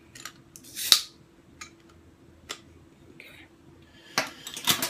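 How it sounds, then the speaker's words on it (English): A Lagunitas Hairy Eyeball American strong ale bottle is opened outdoors, with a sharp metallic pop of the cap near one second followed by a few scattered clinks and light handling sounds. "I'm going to get this bottle open."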